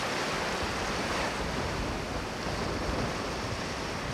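Ocean surf breaks along a rough coastline in a continuous, loud roar of waves and churning water with windy hiss. The wash stays steady throughout, with no voices.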